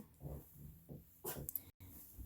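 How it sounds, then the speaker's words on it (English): An indoor dog giving a few quick yips and barks at close range, bunched together in the middle with quiet breathing and snorts before and after, low overall level. "buddy, no bark."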